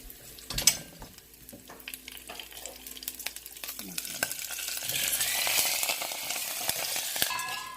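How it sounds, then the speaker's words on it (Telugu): Curry leaves fry hard in hot oil in a pan for coconut chutney, a dense crackling sizzle with scraping stirs and clinks of a utensil, the spitting growing louder and brighter toward the end; no one speaks. "అదే వేపుకునేటప్పుడు కొంచెం ఇలాగా కరివేపాకు కాలుతుంది కదా"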